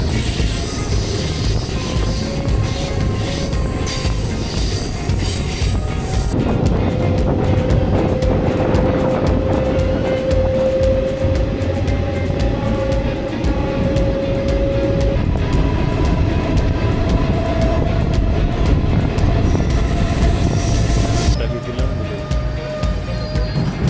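A passenger train runs through the forest of the Mahananda wildlife sanctuary near Sevoke, on the line toward Siliguri Junction. Its steady loud rumble carries on throughout, with wheel tones and whines rising and shifting over it.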